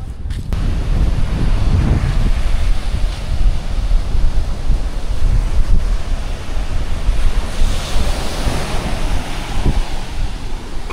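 Rough surf breaks steadily along a Siquijor Island shore while strong wind buffets the microphone, a continuous loud roar of waves with gusty rumble and no voices.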